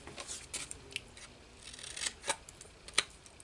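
Scissors trimming paper bag journal pages a couple at a time at an angle: a series of crisp, quiet snips at an uneven pace, close by, with no talking.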